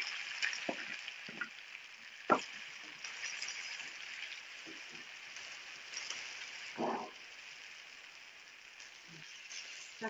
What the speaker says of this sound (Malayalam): ഉള്ളി ഒരുവിധം വാടിക്കഴിഞ്ഞ അതിലേക്ക് എടുത്തു വെച്ചേക്കുന്ന തക്കാളി അരിഞ്ഞത് ചേർത്ത് കൊടുക്കുക